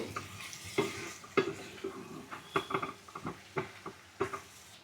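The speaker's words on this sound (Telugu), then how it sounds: "ఇప్పుడు తీసి చూద్దాం ఒకసారి ఒక్కసారి కలుపుకుందాము" Mixed vegetables cooking for chinthachiguru curry are stirred in a pan, with a light sizzle under a series of quick scraping and tapping strokes from the spoon against the pan, close by, with no talking.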